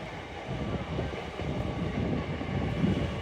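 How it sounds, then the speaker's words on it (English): An LNER Azuma train arrives at York station, a steady broad rumble of rolling wheels and motors under faint station ambience, with a voice speaking over it. "Arriving in now, 1306 LNER Zuma service from London King's Cross to Edinburgh Waverley."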